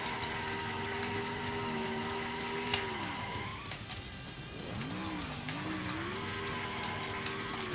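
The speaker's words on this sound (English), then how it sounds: "Burnout celebration." A stock car revs hard through a burnout celebration in NASCAR Thunder 2003 after winning the Virginia 500, its engine droning loud and steady with rising and falling pitch sweeps and occasional sharp transient bursts.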